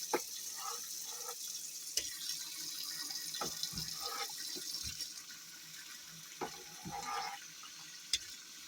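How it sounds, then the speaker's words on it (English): Water runs steadily from a tap into a pot while canning tomatoes, a continuous close hiss and splash with a few clanks of metal, and no talk over it. "Let me put a little more water in there"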